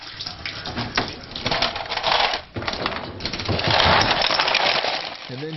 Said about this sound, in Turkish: Şu oda sıcaklığındaki suyu dökeceğiz.